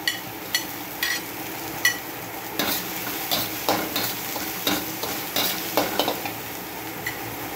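Finely chopped cabbage, green onion and other vegetables sizzle in a hot pan for chicken manchurian, with repeated sharp scraping stirs of a spatula against metal in a steady rhythm.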